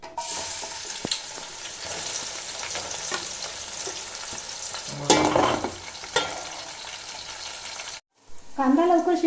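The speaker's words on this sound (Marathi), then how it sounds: "हा जो कांदा आहे हा कमी गॅसवरती तळायचा आहे आपल्याला" Onion frying in oil over a low gas flame, a steady close sizzle with occasional stirring scrapes, a louder burst of hissing midway, a brief drop to silence, then a voice speaking.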